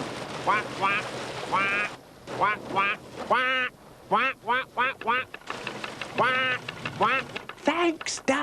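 A duck quacks again and again beside a slowly moving canal narrowboat. The loud, nasal calls come in short bursts of several quacks with brief pauses, close by over a faint steady background hum.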